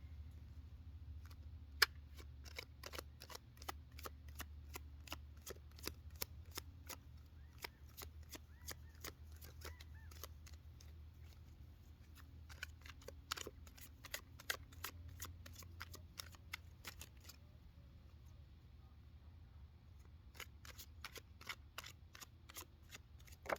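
Cards being shuffled repeatedly, quick riffling bursts and soft slaps in a quiet room, close and fairly faint.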